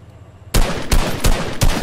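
Fortnite gunfire: after a quiet half-second, four loud, sharp shots ring out at roughly even intervals, each a broadband crack with a short decay.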